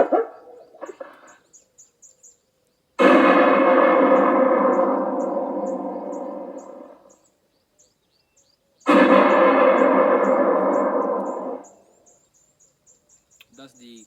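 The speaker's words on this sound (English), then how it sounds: "That's the gunshot sound. That also really helps in scaring other type of birds." Recorded gunshot sound played from a solar-powered bird scaring device: two loud, separate blasts a few seconds apart, each with a long ringing tail that fades out, with faint chirps in the background.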